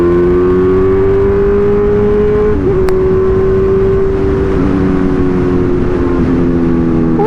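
A Kawasaki Z1000 motorcycle engine heard while riding, with a loud, steady close drone whose pitch dips slightly and recovers as the throttle shifts, continuous throughout with road and wind noise.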